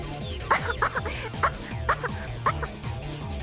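A voice in the game Steins;Gate produces a run of short, rhythmic coughs, about eight bursts in quick succession, close and moderately loud.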